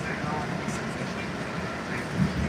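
Inside a Red Line subway train on the move, a steady low rumble and rolling hum fill the car at even loudness throughout, with no distinct announcements or voices standing out.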